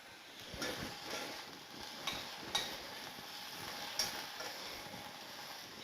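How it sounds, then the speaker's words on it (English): Food shallow fries in a pan on low heat, a soft, steady sizzle with occasional light clinks and scrapes from stirring, quiet and close. "Shallow fry."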